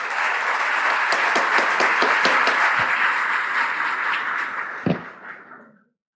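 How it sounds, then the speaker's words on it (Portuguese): An audience at a business pricing conference gives a round of applause, a dense wash of clapping that holds steady, then thins out with one loud thump and fades to silence. "Uma salva de palmas"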